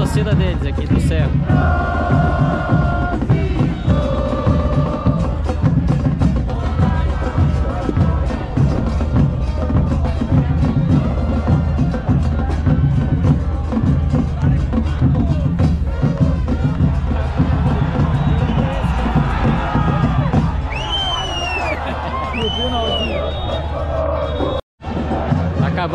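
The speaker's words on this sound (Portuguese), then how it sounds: "Esse é o canto da torcida deles aqui do Cerro." Cerro fans in a stadium in Encarnación, Paraguay keep up a loud, sustained group chant with pulsing rhythm, the roar of the crowd steady throughout before easing slightly near the end, with shouts and whistles rising above.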